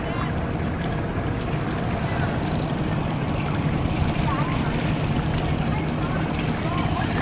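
A motorboat drones along continuously on the Fox River in Green Bay, Wisconsin, its steady engine rumble mixed with rushing wind and water, loud and close throughout.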